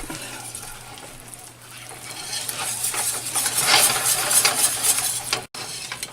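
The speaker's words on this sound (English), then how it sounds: "You want to add that warm so the cheese melts through. And you're just going to mix that up." A warm cheese mixture for Welsh rarebit being mixed, bursts of stirring and scraping against a bowl or pan that grow louder midway, with no speech.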